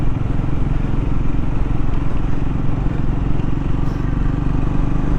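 A Scrambler 400 X motorcycle rides along Cheshire back lanes, its engine droning steadily and close throughout, with wind rush over it.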